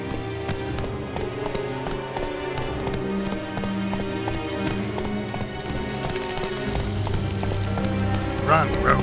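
Hooves of the horse Roach in The Witcher 3 clip-clop in a steady galloping rhythm, close and continuous, mixed with game music, rain-like patter and a voice speaking over it.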